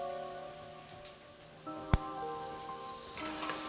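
Mushrooms and onions sauté in a pan with a soft, steady sizzle and crackle, a sharp clink from the utensil near the middle, then a slightly busier fizz as stirring continues; no one speaks.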